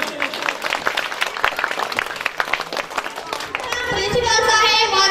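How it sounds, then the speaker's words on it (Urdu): An audience claps together at a speech gathering, dense scattered hand claps that swell into a fuller, steadier burst of applause near the end, with voices mixed in. "مل کے ذرا تالی بجائیں جی."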